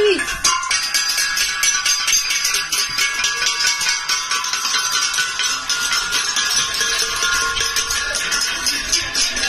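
A large temple-style bell being struck repeatedly by a protester, ringing with a sustained metallic shimmer that blends into a continuous loud clangour for the whole stretch, over crowd noise.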